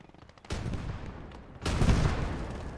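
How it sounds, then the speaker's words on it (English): Two heavy cannon blasts from a Jagdtiger tank destroyer's gun in Gates of Hell: Ostfront, each a sudden deep boom with a rolling rumble tail, the second louder, over a low battlefield hum. "Second shot, hits a tree."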